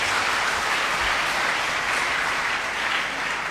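A large audience applauds steadily at an Indonesian government award ceremony, the clapping dense and sustained throughout, with no voices over it.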